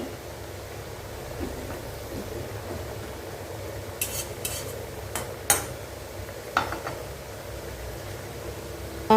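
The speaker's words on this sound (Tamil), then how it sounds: "பார்க்கும்போதே தெரியும் உங்களுக்கு நல்லா பொறிஞ்சு வரும்" A sweet wheat snack fries in a pan, a faint steady sizzle of oil with a few sharp clinks of a utensil against the pan partway through, no one speaking.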